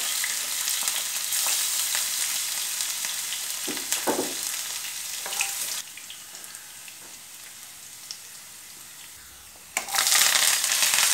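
Crushed garlic and green chilli hit hot oil for a Kerala mushroom dish, a bright, close sizzle with a few stirring clatters, dropping quieter before a fresh burst of frying near the end.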